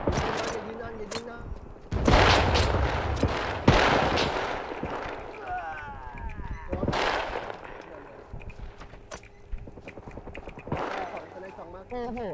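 Gunfire in the survival video game Scum, several loud bursts and single shots, some close and some farther off, spread across the stretch while players talk over it.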